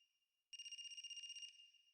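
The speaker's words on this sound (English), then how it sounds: "Is that a phone ringing?" A phone rings in the video game AI: The Somnium Files: a clear, bright electronic trill starts abruptly half a second in and holds steady for about a second before stopping, with a faint tone lingering around it and no voices.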